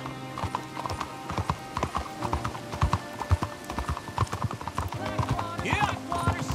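Horse hooves clip-clop steadily at a walking pace in Red Dead Redemption 2, loud and close, with occasional snorts and a voice talking over the riding.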